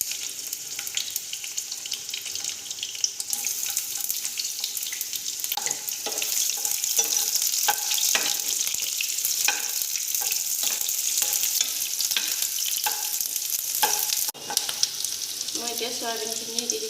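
Onions frying in oil in a pan for a soyabean curry, a steady loud sizzle with stirring clatter and scraping throughout and no talking.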